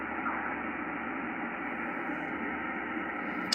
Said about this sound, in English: so that's why you're hearing all that hiss